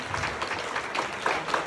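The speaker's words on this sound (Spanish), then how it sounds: "Denle un aplauso a Jesucristo para que me anime un poco" A church congregation claps together in a dense, steady burst of applause, moderately close and filling the room, with no break.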